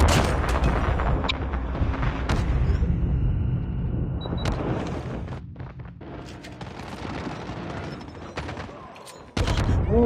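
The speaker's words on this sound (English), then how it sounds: "the bomb fucking got me again" A bomb explosion in a first-person shooter video game amid dense gunfire, with loud continuous bursts, booms and rattling shots packed closely throughout.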